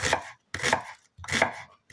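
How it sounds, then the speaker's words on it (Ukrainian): Three quick bursts of a knife chopping onion on a board, separated by short pauses, close and clear. "І починаємо нарізати цибулю."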